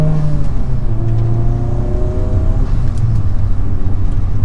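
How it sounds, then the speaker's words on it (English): A manual car pulls away on a hill start, its engine humming with rising tones as the revs climb steadily under a constant cabin drone. "I slowly take my foot off the clutch, find that bite point, give it a little bit of throttle as I continue taking my foot off the clutch"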